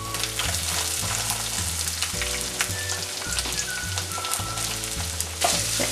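Chopped onions frying in oil with ginger and garlic for a Kottayam-style fish curry, a continuous near sizzle under background music.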